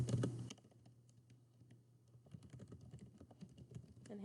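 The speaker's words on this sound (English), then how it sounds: "so I'm going to type that in." Someone types on a computer keyboard, producing quiet, quick, irregular key clicks that pick up in the second half after a brief louder noise at the start.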